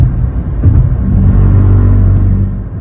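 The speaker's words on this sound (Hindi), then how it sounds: "ये जो लेफ्ट साइड में पट्टी है इसमें आप चढ़ेंगे तो एक तेजी से आवाज आएगी गाड़ी में" Car tyres run over the rumble strip at the edge of the Bundelkhand Expressway in India, making a loud, steady, low droning rumble heard from inside the moving car for a few seconds, with no talking.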